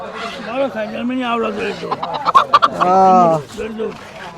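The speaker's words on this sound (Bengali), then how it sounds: "বড় সাইজের দেশি মোরগ" Chickens cluck and squawk close by, with one long drawn-out call from a large native country rooster near the end, while people talk over the birds at a rural riverside poultry market.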